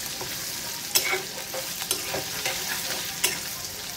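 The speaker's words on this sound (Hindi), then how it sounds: "इसको केवल कलछी में चलाना है बस" A potato, brinjal and okra sabzi being stirred with a ladle in a hot pan, a soft steady sizzle broken by several sharp scraping clacks of the ladle against the pan.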